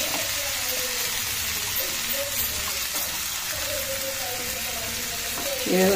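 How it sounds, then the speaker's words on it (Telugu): Onions and other ingredients frying in hot oil give a steady, even sizzle that runs the whole time, with a brief stir or clatter right at the end. "ఆయిల్లో అన్నీ వేయించుకొని అందులో వేయాలి ఉల్లిగడ్డ"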